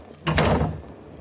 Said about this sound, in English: Nosy, close the door.